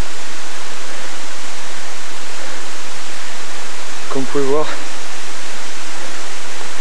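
A waterfall in dense green forest on Moorea, heard as a steady broadband rush of falling water that fills the whole clip, with a short stretch of someone speaking French partway through.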